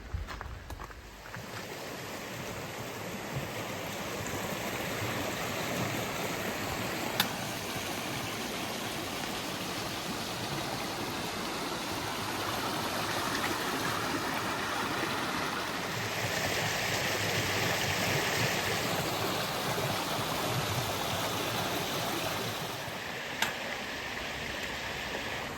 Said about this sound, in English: this stream, this brook, must be the same one that feeds the outdoor swimming pool